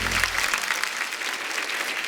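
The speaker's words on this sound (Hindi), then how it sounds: "जोरदार तालियां हो जाए" Studio audience applause on a Hindi comedy show, a loud, steady wash of many hands clapping close by for about two seconds, with faint crowd murmur blended in.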